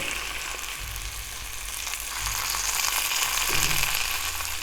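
Beef seekh kebabs, Bihari or Bangladeshi style, sizzle in a pan on a stovetop until charred. The frying is a continuous, fairly loud hiss that swells slightly partway through, with no talking.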